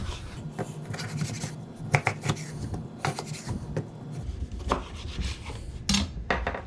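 A knife cuts through limes on a board for seafood tacos, giving a run of irregular scraping chops and taps, close and moderately loud, with no talking.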